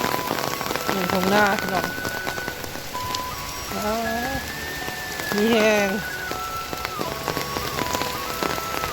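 Heavy rain from a dry-season storm in Laos pours in a steady, dense hiss on surfaces throughout, while someone speaks over it in short bursts.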